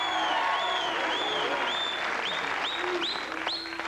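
Studio audience at a local Waco-area television show applauding and cheering, a dense sustained wash of clapping with whoops and whistles rising over it.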